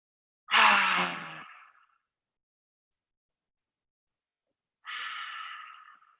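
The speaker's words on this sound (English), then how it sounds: "Inhale through the nose, exhale through the mouth." Two deliberate breaths during a yoga class, each a clear, close airy rush: first a fuller inhale drawn through the nose, then after a long silence a softer exhale released through the mouth.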